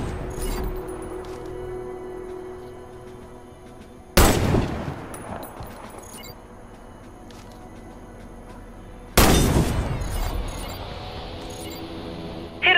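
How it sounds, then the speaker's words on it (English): Two loud sniper rifle shots ring out in the Warface shooter game, about five seconds apart, each with a sharp crack and a lingering echoing tail over quiet ambient game sound. "Hit all the targets with your sniper rifle."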